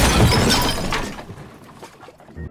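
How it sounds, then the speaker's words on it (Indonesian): A ceramic urn holding ashes smashes in one loud, close crash, then pottery fragments scatter and clatter into a quieter tail. "karena hal itu mengakibatkan guci yang berisikan abu tadi pecah."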